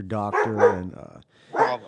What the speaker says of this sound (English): I got a bunch of dogs barking here.